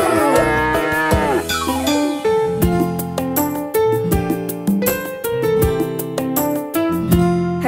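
Drawn-out cow moos sung within a children's nursery rhyme, repeated over a bright, steady instrumental backing with bell-like tones.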